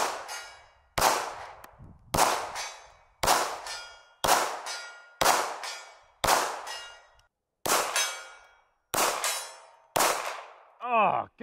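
Nine bullet hits ring off a steel silhouette target at an outdoor range, each a bright metallic clang that decays slowly, evenly spaced about a second apart, ending with a short burst of wavering ringing.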